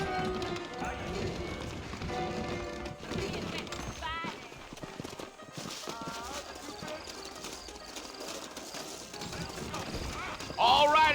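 Steady clip-clop of saddled horses trotting in Red Dead Redemption, under music and game ambience, with occasional voices and a louder burst near the end.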